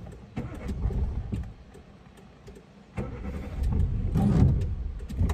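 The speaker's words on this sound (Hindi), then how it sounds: "भाई गाड़ी स्टार्ट नहीं हो रही, क्या हो गया" A car on a rainy mountain drive from Yingkiong to Pasighat in Arunachal Pradesh struggles to start, with two separate bursts of cranking and engine rumble separated by a quiet pause, close and fairly loud.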